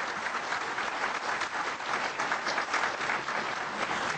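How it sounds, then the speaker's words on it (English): An audience at a panel discussion on Muslim–Christian friendship gives a round of applause, a steady, even wash of clapping that continues for about four seconds. "But let's have one more round of applause for both Dr. Badawi and Pastor Safa."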